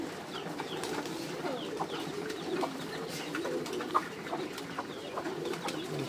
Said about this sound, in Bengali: সব কবুতর খাবার খাইতেছে